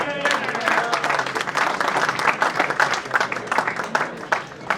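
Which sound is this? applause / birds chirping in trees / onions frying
applause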